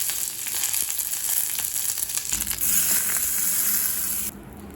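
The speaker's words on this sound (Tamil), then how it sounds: "இப்போ சட்னியை தாளிச்சிக்கலாம். தேவையான அளவு எண்ணெய், கொஞ்சம் கடுகு, கொஞ்சம் உளுந்து, 1 மிளகாய், கொஞ்சம் கருவேப்பிலை" Mustard seeds, urad dal, a chilli and curry leaves sizzle and crackle loudly in hot oil for a peanut chutney tempering. The frying is steady and close, then drops in level near the end.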